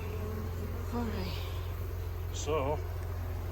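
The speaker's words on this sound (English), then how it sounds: "still got a bunch of bees in here" Honey bees drone in a steady low buzz inside a nuc box being installed, close and continuous, while people talk briefly over it.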